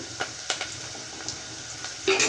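Onion pieces sizzle softly in a pan while being stirred, a close hiss broken by light scraping ticks and a brief louder burst at the end.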